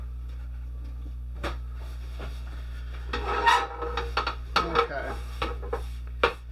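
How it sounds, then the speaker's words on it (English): A pan is wiped out by hand in a kitchen while cooking okonomiyaki, with soft rubbing and scraping strokes and a few light clinks over a steady low hum; a voice speaks briefly. "Just wiping out my pan here."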